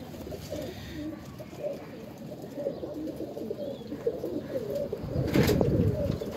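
Ferozpuri pure blood line pigeons coo in soft, low, continuous murmurs, with a slightly louder, fuller stretch of cooing near the end.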